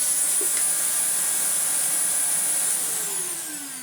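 A Bissell Lift-Off vacuum cleaner with its tools attached runs with a loud, steady airy roar and a high whine, close up, and the pitch sags slightly near the end as it labors.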